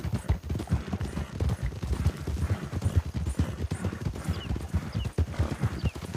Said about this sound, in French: Regardez mon Shire, comment il rattrape les chevaux.